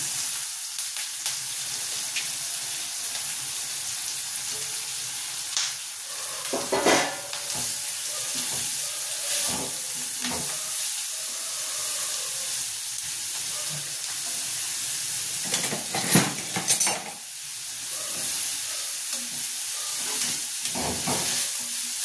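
Carrots fry in a pan with a steady hissing sizzle, broken by a few louder stirring scrapes and spatters, close up and without talk.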